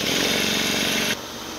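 A 1500 rpm drill whirs loudly and steadily as it spins a miniature twin-rotor Wankel engine, trying to start it, then the pitch drops abruptly near the end as the drill slows.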